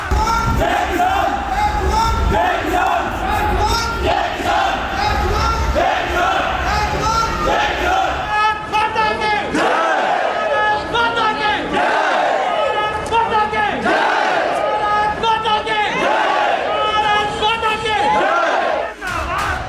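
A large crowd of Indians at a tricolour rally on a street in Canada chants loudly and in unison, voices rising and falling in rhythmic waves over continuous mass noise.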